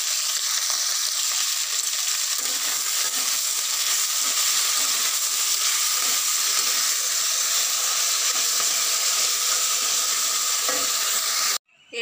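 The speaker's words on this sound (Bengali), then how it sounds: "আলুটা একটু ভালো করে কষে নেব" Potatoes sautéing in a pan while a home cook makes a red rohu fish curry with vegetables, giving a steady, close sizzle and frying hiss that runs evenly throughout and cuts off abruptly at the very end.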